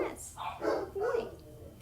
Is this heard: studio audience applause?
no